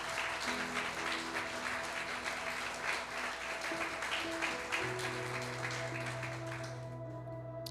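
A church congregation applauds at a Pentecostal-style worship service, steady sustained clapping filling the hall throughout, with a sustained music tone beneath.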